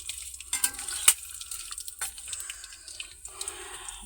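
Shredded potato for jhuri aloo bhaja fries in oil, a soft steady sizzle with scattered crackles, a few sharper pops and light stirring scrapes, close and fairly quiet with no talking.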